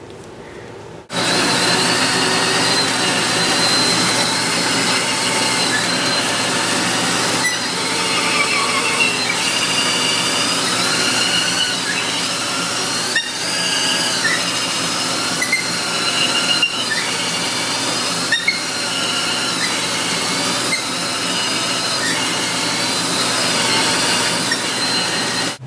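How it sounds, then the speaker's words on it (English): A cylinder hone spins in a power drill, honing a 1950 Triumph 6T engine cylinder to clearance: a loud, continuous whirring drone with a grinding edge, close and unbroken for the whole stretch. "Put this in your drill and hone it to the proper clearances."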